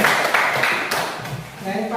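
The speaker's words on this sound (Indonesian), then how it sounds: "Oke, kasih tepuk tangan." A classroom of students claps in a short, fairly close round of applause that tapers off, with voices talking over it toward the end.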